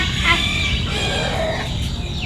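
Chickens cluck steadily at a farmyard home, several birds close by with overlapping calls and a few sharper squawks throughout.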